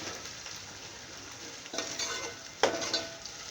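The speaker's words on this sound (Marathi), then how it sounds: "ती पेस्ट ना पूर्ण अशी चमच्याने परतून घेत राहायची." A spoon stirs onion garlic paste as it fries in a pan with onions and tomato for a village-style chicken biryani, giving a soft steady sizzle with a few louder scraping strokes near the end.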